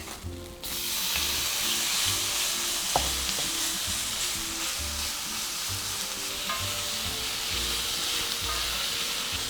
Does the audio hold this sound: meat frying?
yes